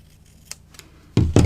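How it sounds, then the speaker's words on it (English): Scissors trim a paper tie with two quick, crisp snips close by near the end, after a few faint clicks of handling paper. "it's much easier to just trim it like that"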